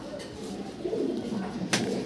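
Several pigeons, sold as racing birds, coo in low soft murmurs throughout, close by with steady background noise and a brief rustle near the end.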